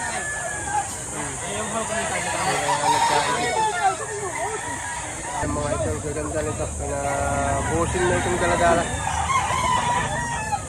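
Roosters at a gamefowl farm in Batangas crow repeatedly amid clucking fowl, the calls overlapping at middle distance while people talk nearby.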